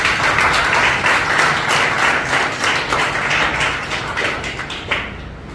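A lecture audience applauds with dense, sustained clapping that fills the room, then thins out and fades toward the end.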